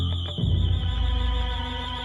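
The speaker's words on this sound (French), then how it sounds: "L'alarme retentit, stridente," A shrill burglar alarm rings inside a house, a loud, steady, piercing electronic tone that holds throughout over a low rumbling background.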